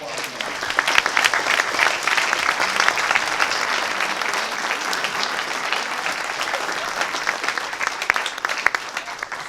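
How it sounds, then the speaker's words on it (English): A live audience bursts into sustained clapping after a Shark Tank-style presentation, a dense, steady wash of many hands lasting the whole stretch without letting up. "round of applause for that"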